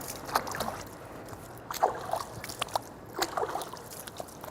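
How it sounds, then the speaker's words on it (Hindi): Water splashes and trickles in soft, irregular bursts as hands and arms are washed up to the elbows during ablution, faint and close in a quiet room. "कोहनियों तक ये पूरे हाथ धुल जाना चाहिए अच्छी तरह"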